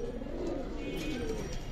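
Silver Military pigeons cooing in a loft, a low soft burbling coo running continuously through a short stretch with faint background chatter.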